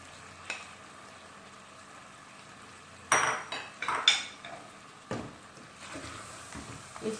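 A spoon stirs and scrapes a paste of brown onion and yogurt in a hot pan, with faint sizzling under sharp metallic clinks and scrapes in irregular bursts.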